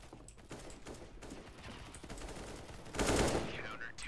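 AK rifle fire in the shooter CS:GO, a run of fairly quiet, distant bursts of gunfire ending in a louder close shot near the end.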